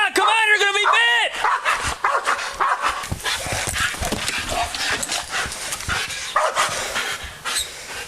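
A sheriff's office police dog barks and yips in rapid bursts close by, loud and continuous, with shouting voices mixed in among the barks.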